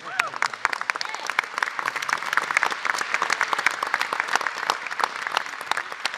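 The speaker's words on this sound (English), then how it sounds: "You can clap now." A congregation at a traditional Sunday worship service bursts into lively clapping, with sharp individual claps over a steady wash and a few voices mixed in.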